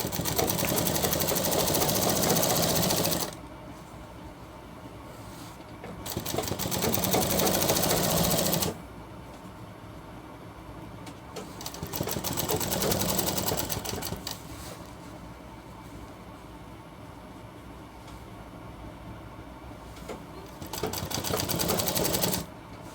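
A sewing machine runs a single line of stitching along a shirt hem in several loud, steady bursts separated by quieter pauses with low background noise.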